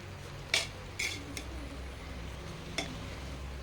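Ground garlic, ginger, garam masala and cumin stirred in a pan; a few sharp, isolated clinks of a spoon against the pan break an otherwise quiet, faint background.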